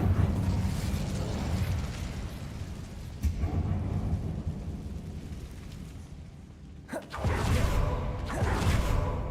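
Incendio fire spell cast inside a closed, web-filled mine in Hogwarts Legacy, heard as a low rumbling whoosh that swells into a loud, fiery burst near the end.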